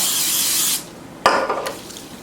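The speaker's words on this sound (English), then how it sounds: "we are going to go ahead and just spray our pan with butter spray" Two hissing bursts of aerosol butter spray onto a pan, a long one followed by a shorter, sharper one, close up with no talking.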